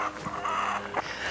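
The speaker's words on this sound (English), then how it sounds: "This is a chicken." A chicken clucks a few short times at a marsh, close and fairly loud over a steady outdoor background.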